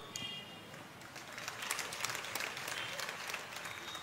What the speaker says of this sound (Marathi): टाळ्या वाजवल्यात मित्रांनो